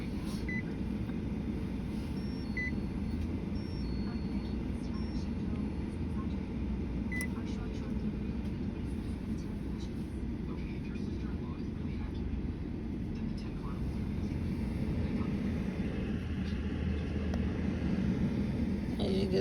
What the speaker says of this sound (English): This is the Drew Barrymore's beautiful air fryer.